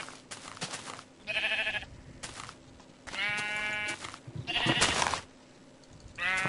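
Sheep in the Minecraft video game give several loud, close bleats in separate bursts, spaced across the stretch with quieter game background between them.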